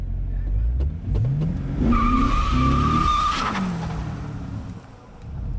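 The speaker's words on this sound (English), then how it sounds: "We do burnouts?" A Corvette C6 Z06 spins its tires in a burnout, engine roaring as a loud, sustained rubber squeal rises and sweeps in pitch for several seconds before easing off, with voices faintly present.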